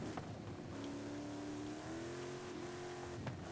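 A modified Toyota Supra drives in the racing game Forza Horizon 5, its engine holding a steady droning tone that rises slowly in pitch, with a faint bump or shift partway through.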